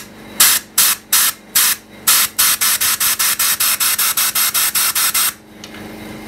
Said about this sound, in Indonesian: Jadi ya, ini kita semprot.